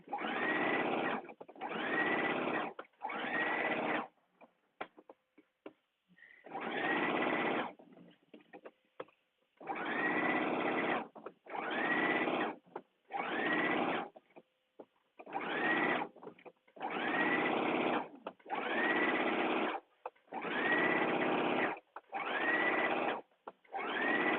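A sewing machine top stitches a dress seam in a run of short whirring bursts, stopping and starting over a dozen times at close range with brief quiet pauses between runs.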